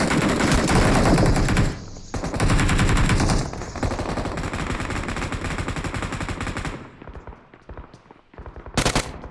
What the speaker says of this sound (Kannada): ನಾನು ಉದಯಿಗೆ ಹೊಡಿತಾ ಬಿದ್ದಿದ್ದೀನಿ.